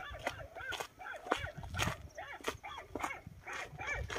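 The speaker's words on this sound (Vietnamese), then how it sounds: "nghe sao nghe chó sủa không vậy?" A dog barking and yipping near a farm with a solar-powered water pump, a rapid series of short, fairly close yelps and whimpers running without pause.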